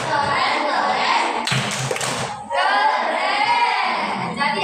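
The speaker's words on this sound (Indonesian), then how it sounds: "Boleh kita kasih tepuk tangan untuk Aiga." Classroom of children clapping together for a classmate in rhythmic bursts, with a sharp flurry of claps in the middle and a teacher and kids talking over much of it.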